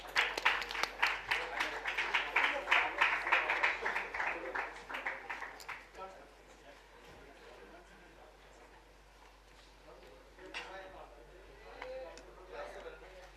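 Audience clapping at an awards launch event in a hall, a dense round of applause that is loud at first and fades after about six seconds, followed by quieter room noise and a voice on a microphone.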